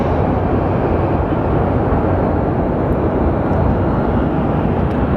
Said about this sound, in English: Of an MD-11 joining us on the final